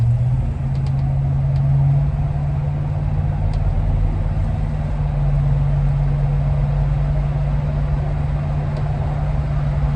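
A 1970 Cadillac Deville convertible cruising down the road, its engine a steady low hum under constant road and wind noise, heard from inside the car for the full stretch.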